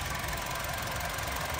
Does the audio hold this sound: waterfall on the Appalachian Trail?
no